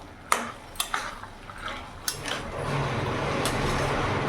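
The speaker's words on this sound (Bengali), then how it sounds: "ভালো করে নাড়াচাড়া করে নেব।" Vegetables being stirred in a pan for a mixed-vegetable chorchori with cauliflower greens, fried aubergine and lentil dumplings: sharp utensil scrapes and clinks against the pan, several separate strikes, then a steady sizzling frying wash.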